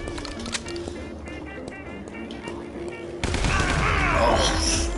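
Tommy gun fire in a zombie gang shooter game, quick rattling bursts over background noise that grow louder and denser toward the end, with voices talking throughout.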